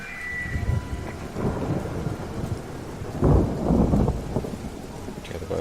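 Rolling thunder and steady heavy rain in Everybody's Gone to the Rapture, among holiday camp caravans: a continuous downpour hiss with a loud low rumble swelling in the middle and fading away.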